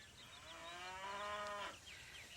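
A cow lets out a single drawn-out moo that rises and then fades, heard alone and fairly quiet against a faint background.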